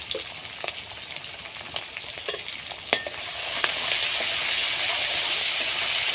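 Salted shrimp frying in a pan with red amaranth greens makes a soft crackle with scattered metallic stirring clinks, then swells into a louder, steady sizzle for the last few seconds.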